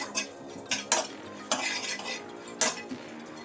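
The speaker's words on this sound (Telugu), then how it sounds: "ఇప్పుడు మంచి వాసన వచ్చేంత వరకు ఇవి ఇలాగే దోరగా వేయించుకుందాం" A spoon stirs and scrapes spices as they dry-roast in a pan, giving irregular clinks and scrapes at close range with no talking.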